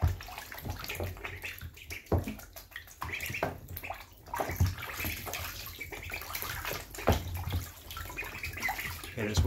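Water splashes and sloshes in repeated bursts as ducks flap and shake themselves in a shallow tub, with little pauses between bouts.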